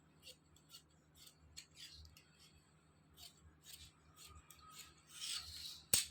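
Scissors cutting cloth for a sleeve, soft intermittent snips and rustling of fabric over a low steady background hum, ending in a sharp brief clack.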